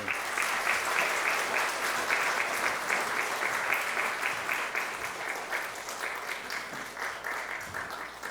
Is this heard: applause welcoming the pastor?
yes